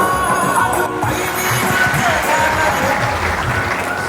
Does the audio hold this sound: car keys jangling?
no